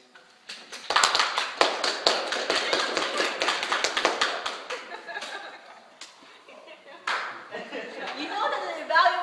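An audience claps after a speech evaluation at a speaking club meeting, a burst of close, dense hand clapping that fades out, then a second shorter round, with some chuckles and talk around it.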